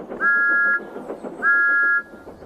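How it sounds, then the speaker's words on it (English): Two short, bright steam engine whistle toots in succession, each held about half a second, clear over a faint background murmur, in the countryside. "Thomas's whistle sounds like this in the countryside."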